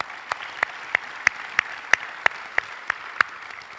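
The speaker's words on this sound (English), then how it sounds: "And I think we'd like to give them a round of applause." A small audience at a 2018 closing ceremony applauds: a faint, thin wash of clapping with one nearby person's distinct claps repeating in a steady, even rhythm.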